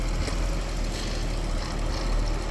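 A Scania truck engine runs at a steady, loud idle with a deep rumble, and a faint clatter from its compressor rattles underneath.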